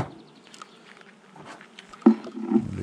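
A honeybee flies close around a beekeeper at an open hive, its buzz loud and near, swelling sharply near the end over a low rumbling background.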